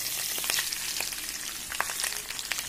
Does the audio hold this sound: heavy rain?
no